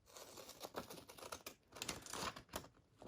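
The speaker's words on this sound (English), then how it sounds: "use your serrated scissors" Rapid crisp snipping of serrated scissors through paper baggies, a run of short clipped cuts close to the ear with no talking.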